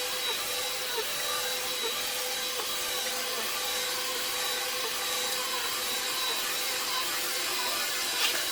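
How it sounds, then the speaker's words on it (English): A vacuum cleaner hoovering a rug at home, a steady high whining motor drone with a faint scraping rub, continuous and even throughout. "As I'm watching this footage of me hoovering this rug"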